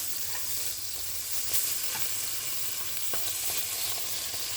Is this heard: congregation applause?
no